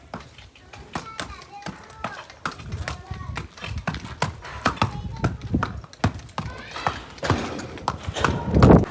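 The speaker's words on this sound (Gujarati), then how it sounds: "વાહ ઘોડી વાહ ઘોડી ખડે." A horse, a mare, clip-clops with steady, fairly close hoof strikes throughout, while people talk over it and a voice is heard.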